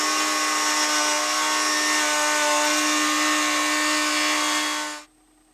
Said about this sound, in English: So here at the router, I've set up a rabbet bit that I'll use to route all these pieces to 1/2-inch.